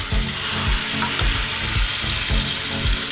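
Onion, ginger, garlic and tomato paste sizzles steadily in a pan for a dhaba-style paneer masala, with a dense continuous frying hiss and soft rhythmic stirring scrapes, close and loud, no voices.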